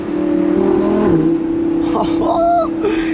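A Lamborghini Huracan Spyder engine pulls hard from inside the car, a loud steady drone that sweeps up in pitch with a brief shift, as someone speaks over it.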